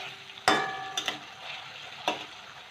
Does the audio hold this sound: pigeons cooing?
no